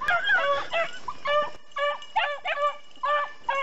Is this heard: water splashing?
no